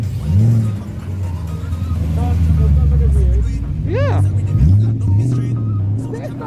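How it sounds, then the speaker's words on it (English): A V8 car engine at a breakfast car run, a deep, steady rumbling idle with a rising rev sweep near the end, close by under loud talking from people standing around. "It sounds like a V8."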